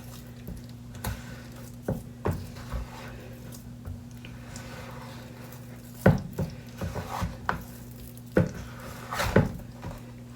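Powder being stirred by hand after drops of blue food coloring go in, a close, dry scraping rub with scattered sharper knocks and scrapes against the container, under a steady low hum.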